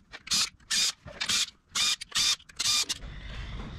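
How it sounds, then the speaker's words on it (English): 8 mm bolts being backed out of the oil cover on a Honda CRF110, heard as six or seven short bursts of close, rapid ratcheting, each about a quarter second, separated by brief pauses, followed by a quiet low rumble. "now we're going to pull these 8 millimeter bolts off that are holding the cover on"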